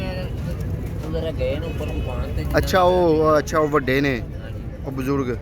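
Pigeons at a pigeon market in Shahdara, Lahore, coo in soft repeated notes beneath steady crowd noise, while someone talks nearby.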